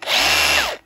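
A Makita HR008G concrete rotary hammer drill runs in one loud, close burst of under a second, its whining motor holding steady and then dropping in pitch as it winds down.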